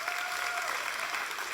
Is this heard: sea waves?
no